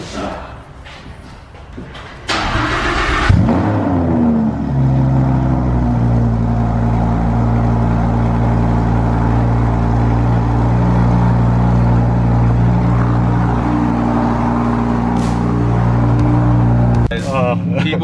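Lamborghini Huracán driving in the rain starts with a door thud and then settles into a loud, steady engine drone with rising and shifting tones and wet road hiss. A voice talks over it.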